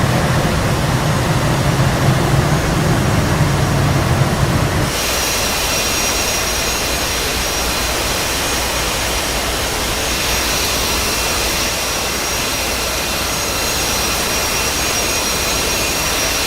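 Warplane engine roaring in the flight simulator game DCS, a loud continuous jet-like rush that shifts abruptly in tone partway through and then holds steady.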